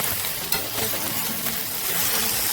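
Peppers and onions sautéing in a hot pan for chicken and shrimp scampi, giving a steady close sizzle with light stirring scrapes throughout and no voices.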